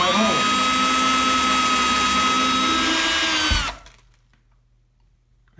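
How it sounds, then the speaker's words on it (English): A power drill whines loudly and steadily for a few seconds while drilling a hole in the bottom of a robe hook bracket, then stops abruptly, leaving near silence. "drill my hole"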